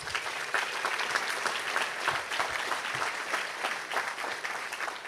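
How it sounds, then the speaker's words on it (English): Steady, moderately distant applause fills the hall at El Segundo's 2025 State of the City address, many hands clapping evenly for the full stretch. "That deserves a huge round of applause"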